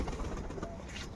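Rajshahi Giribaz pigeons coo softly nearby, a short low murmuring call heard alone.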